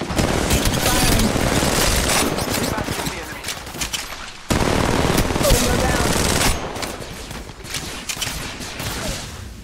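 Automatic gunfire in Apex Legends Mobile ranked play: dense, rapid bursts of close, loud shots with booming impacts, nearly continuous with a brief break midway, and speech mixed in.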